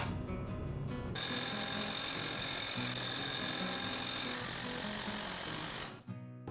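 A power drill bores pilot holes and drives 3-inch screws into dimensional lumber for a frame, a continuous whirring grind that holds for several seconds and then stops abruptly.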